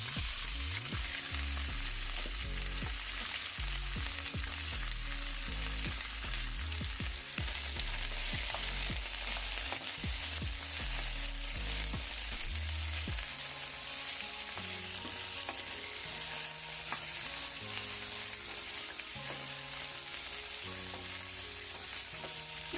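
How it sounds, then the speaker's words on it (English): Vegetables sautéing in olive oil for a vegan mushroom vegetable rice, a steady close sizzle with frequent clatters of stirring throughout and no talking. "Now we're gonna saute all of these."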